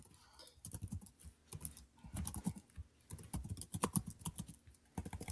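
Typing on a computer keyboard at close range, bursts of quick, uneven key clicks separated by short pauses, with no voices.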